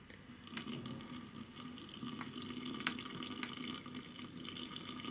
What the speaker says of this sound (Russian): И заливаем 2 литра воды.